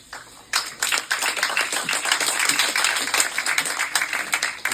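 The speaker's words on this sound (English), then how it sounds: "please give your applause to each and every one of them" Clapping breaks out from the audience at an AI summit panel on smart industry in Paris, a busy patter of many hands that starts abruptly after a quiet moment and keeps going unevenly without talk.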